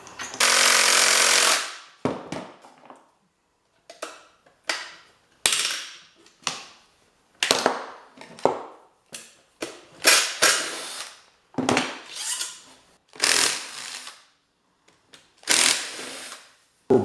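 Bolts are driven off a motor with a power socket tool, loud repeated bursts of rattling impact hammering separated by short pauses, close and without talk.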